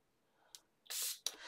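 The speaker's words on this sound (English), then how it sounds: "So I'm going to spray quite close into each droplet." A handheld spray bottle misting water onto ink droplets for ink smooshing, heard as two short, close, hissing bursts with a faint click before them.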